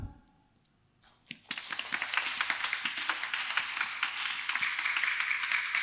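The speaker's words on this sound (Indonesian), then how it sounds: "kita beri tepuk tangan" Applause at a church youth Christmas celebration starts after a quiet moment and builds into steady, moderately loud clapping from the gathered congregation, continuing evenly to the end.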